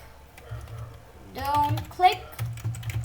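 Fast clicking of a computer keyboard as text is typed into a Scratch project, faint and close, over a low steady hum, with a brief tonal, voice-like sound in the middle.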